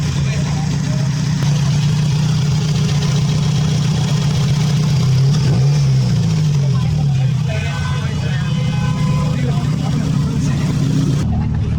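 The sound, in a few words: Honda Civic with swapped engine idling and revving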